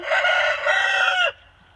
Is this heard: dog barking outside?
no